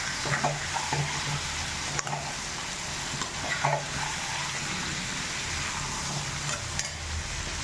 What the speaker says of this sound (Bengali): আর কুমড়োটা ভালো করে এতে ভুনে নেব।